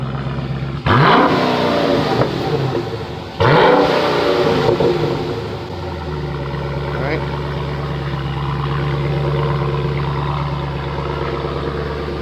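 A stock-exhaust Dodge Challenger SRT8 cranks over and catches with two loud bursts, then settles into a deep, steady rumbling idle close by, with brief talk nearby.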